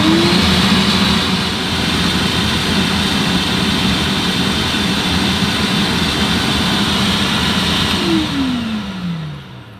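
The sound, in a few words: portable dog bath pump running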